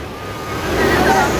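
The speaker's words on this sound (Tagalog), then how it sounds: "Traffic talaga oh." Heavy road traffic in a congested Philippine street, a steady low rumble of engines and passing vehicles with faint voices and hubbub mixed in.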